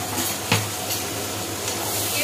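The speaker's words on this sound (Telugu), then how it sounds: "ఇప్పుడైతే ఒక టమాటో అయితే కట్ చేసి వేసుకుంటున్నాను" Chopped tomato frying with already-fried onions in a pan for semiya upma, a steady close sizzle with a brief stirring clank and no talk.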